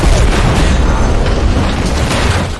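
A loud, continuous blast rumble from an RPG explosion in a war-film battle scene, with broadband roar and heavy low-end booming sustained for a couple of seconds before easing off at the end.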